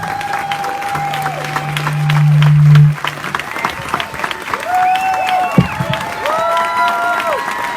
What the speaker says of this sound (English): Big round of applause for Dario and Emilio and their family